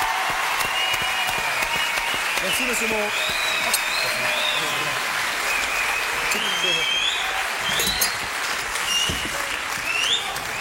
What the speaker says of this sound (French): Patrice, quelques applaudissements